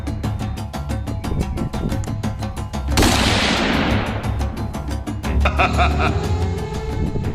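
A sharp, loud gunshot bursts out midway over a busy backdrop of music and rhythmic clicks, its noisy tail fading over a couple of seconds.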